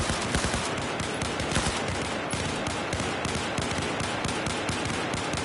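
Dense, rapid automatic gunfire rattles continuously in a military simulation game, loud and close with bursts overlapping into a steady crackling barrage and no talk.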